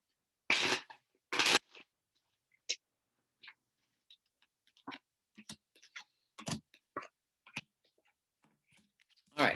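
Tarot cards are shuffled and handled on a table in scattered crisp bursts and clicks, with louder riffles at the start and end and faint speech between them.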